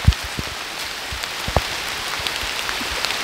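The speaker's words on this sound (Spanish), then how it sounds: "Pero ya es menos la lluvia." Light rain patters steadily, with scattered nearby drops landing in irregular taps over a soft hiss.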